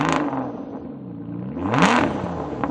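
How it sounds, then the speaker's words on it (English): A hand-built British V12 with a manual gearbox revs up and falls back, its engine note swelling to a loud peak before settling back to idle, with no talking over it. "I think it's time to have a listen to this hand-built, manual British V12."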